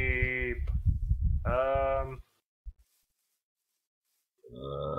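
Sheep in the Minecraft video game bleat in two loud, close, wavering calls. A short silence follows, then a third bleat begins at the end.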